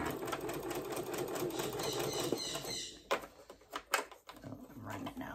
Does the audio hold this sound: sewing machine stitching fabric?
yes